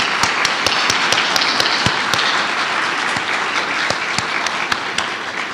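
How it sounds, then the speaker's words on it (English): A meeting audience gives the organizers a big round of applause, loud and dense, with a few sharp individual claps standing out close by throughout. "I want to have my shot at being able to give Mike and Manuela Yasa a huge round of applause"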